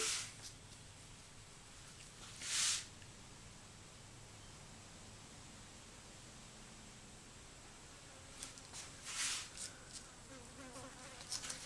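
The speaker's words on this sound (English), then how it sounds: "There's a fly buzzing around." A fly buzzes faintly around a garden during a flower pour-painting session, a soft steady drone with a couple of brief louder passes near the microphone.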